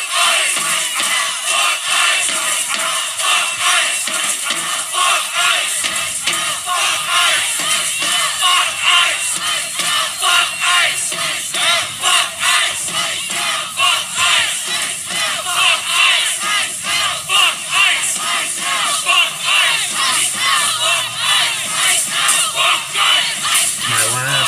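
A large crowd at an ICE protest in Minneapolis, Minnesota, chants and shouts continuously and loudly, a dense roar of voices that never lets up.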